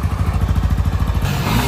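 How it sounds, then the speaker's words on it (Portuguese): A brand-new Honda Twister motorcycle idles close by with a fast, steady thumping beat, then the note shifts slightly near the end. "A moto da Twist"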